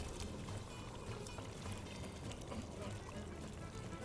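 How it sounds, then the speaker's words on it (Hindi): Boiled chana dal is poured with its cooking water into a pot, a faint steady splashing and trickling of liquid running for several seconds. "ये उबली हुई चने की दाल पानी के साथ ही"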